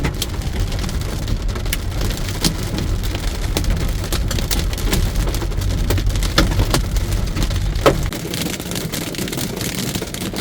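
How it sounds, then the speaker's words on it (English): Hail pelts a car stuck in heavy traffic during a violent lightning hailstorm, a loud, dense, steady patter with sharp, sudden harder strikes over a low engine rumble that drops away near the end. "Sitting in bad traffic and now I'm getting hailed on."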